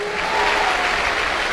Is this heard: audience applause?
yes